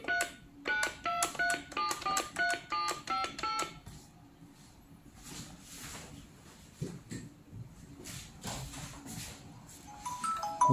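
Rapid sequences of dialing tones sound from a corded caller ID telephone with a plastic casing, a quick run of clear beeps followed by faint handling clicks and quieter tones.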